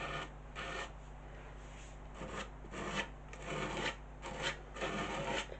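A spatula presses decoupage paste through a stencil, giving soft rhythmic scraping strokes, close and quiet, repeated in short passes.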